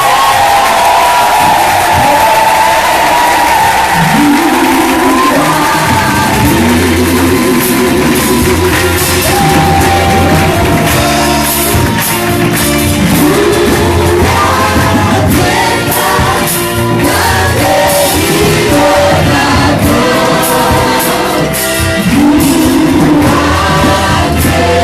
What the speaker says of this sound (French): Donnons une grande acclamation au roi.